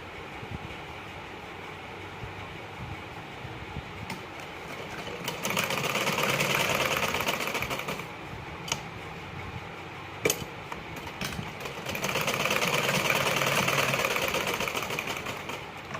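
Sewing machine stitching blouse pieces together, joining shoulder portions, with a steady mechanical whir that swells into louder bursts of fast stitching between quieter stretches.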